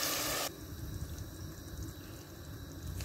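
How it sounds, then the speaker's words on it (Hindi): Water poured from a glass into a pot of potato and pea curry on the stove, a brief splash at the start followed by a steady low bubbling and sizzling simmer. "अब इसमें मैं पानी डालूँगी।"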